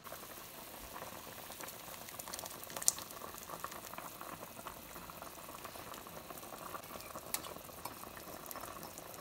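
A pot of meat for ogbono soup with okra simmers at a rolling boil, giving a soft, steady bubbling and crackling hiss with scattered tiny pops, faint and uninterrupted throughout.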